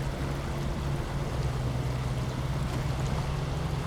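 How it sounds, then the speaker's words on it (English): Heavy truck in the off-road driving game SnowRunner ploughs straight through water: a steady, dense wash of splashing and churning over a low engine drone, continuous and close with no talk. "Just plow straight through the water."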